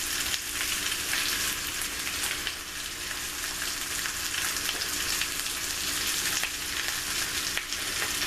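Home fried potatoes sizzling loudly in a pan, a dense continuous crackle with occasional soft scrapes as they are flipped over.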